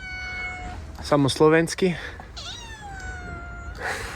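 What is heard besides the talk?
cat meowing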